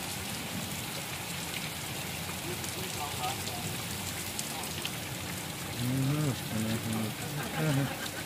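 Steady rain falls and hisses evenly throughout, fairly faint and continuous. Near the end a voice rises briefly over the rain.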